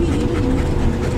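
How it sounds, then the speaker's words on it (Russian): A Belgian shepherd dog pants steadily and close by, a continuous breathy rhythm with low rumbling noise beneath it on an outing to a canal lock. "Это бельгийская овчарка у них."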